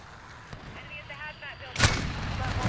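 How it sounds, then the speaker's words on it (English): A single loud, broadband blast of an RPG rocket launcher firing in the Modern Warfare shooter game, bursting in about two-thirds through after quieter game ambience and faint voices. "you really gonna shoot the RPG?"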